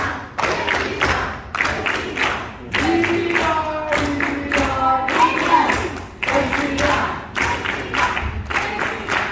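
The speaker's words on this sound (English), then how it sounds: "Come on, clap now." A crowd claps in rhythm at a Hindu temple celebration, steady repeated bursts of hand claps with chanting voices and some tonal singing over them, fairly loud and close.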